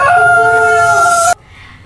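A storyteller at a children's storytelling competition imitates a rooster crowing with the voice. The tone is loud, close and sustained, then cuts off abruptly.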